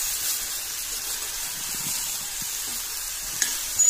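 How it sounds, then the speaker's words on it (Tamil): Eggplant pieces with salt, turmeric and chilli powder sautéing over medium heat give a soft, steady hiss of sizzling oil, with a couple of faint clicks near the end. "எல்லாமே சேர்ந்து கொஞ்சம் மீடியம்லேயே வச்சு வதக்கணும்"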